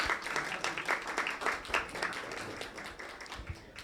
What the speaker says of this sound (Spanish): si quieren un aplauso